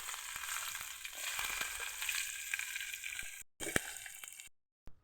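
Onions dropped into hot oil with mustard seeds sizzle in a steady, close hiss with faint crackles and stirring, briefly cutting out twice near the end.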